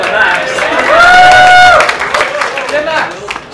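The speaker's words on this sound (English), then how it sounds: "Give him a clap for Max." An audience claps and cheers for Max, a performer who has just crossed an impossible wall, in a lively burst of applause heard close, with a voice speaking over it.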